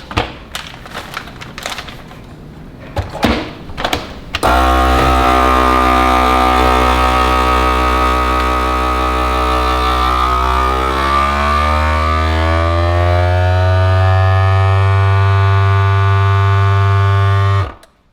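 A vacuum sealer sealing bags of quail meat runs with a loud, steady motor drone that slowly shifts in pitch as the air is drawn out, after a few brief handling knocks, then cuts off abruptly.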